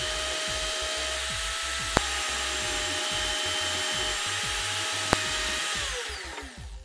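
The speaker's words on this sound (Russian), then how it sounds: "Дрель должна крутиться на себя." A hand drill spins steadily as a file shapes a winter fishing jig body, giving a continuous whir under rhythmic scraping, with two brief ticks, before the motor winds down at the end.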